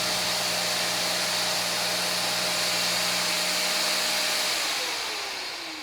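Spot cleaner, a UWANT Y100 or Hoover CleanSlate XL, running its hose self-cleaning cycle: a steady loud motor whine with airy rushing hiss, holding constant before winding down at the end.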